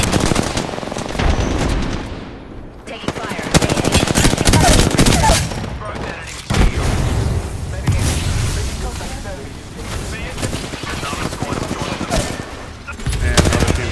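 Gunfire in an Apex Legends ranked match on Xbox: rapid automatic bursts and dense volleys of shots, loud and near, running almost continuously with brief lulls, while a player talks over the action.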